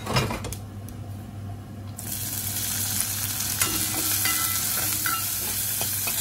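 Onions hit hot oil for a garlic-onion tempering and a loud, steady sizzle bursts out, continuing with occasional pops and clicks, close up.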